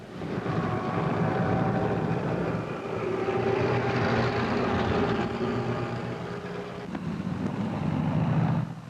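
Steady droning roar of a Lufthansa Junkers propeller airliner engine at an airport, loud and continuous, swelling slightly before easing off, with no talk.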